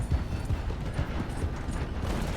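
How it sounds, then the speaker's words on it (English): Horse hooves pounding at a gallop in the Red Dead Redemption 2 video game, a steady low rumbling run of rapid thuds with a continuous dense texture, fairly loud and with no talking. "I like just being able to charge around on horseback."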